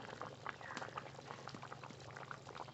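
Chicken curry simmers in a pot with mustard oil, tomato and meat masala, giving a steady, close bubbling and popping that goes on throughout with no voices.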